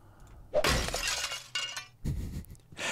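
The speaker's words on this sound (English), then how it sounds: "Shatter the picture frames." Picture frames shatter in the horror game Kill It With Fire, in four sharp, loud breaking-glass crashes, each followed by scattered tinkling debris, with brief gaps between them.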